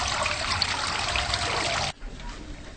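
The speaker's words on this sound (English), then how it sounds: "Pot 2 is now getting filled with the sieved water." Sieved water pours into a pot as a steady, close splashing stream for about two seconds, then cuts off abruptly, leaving quieter dripping and low background noise.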